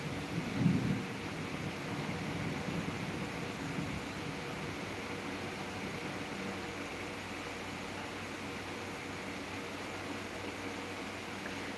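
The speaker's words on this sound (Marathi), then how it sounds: "कोकणात भरपूर पाऊस पडतोय" Heavy monsoon rain pours steadily in the Konkan region as a dense, even roar with a low rumble of thunder near the start, continuing unbroken and without voices throughout.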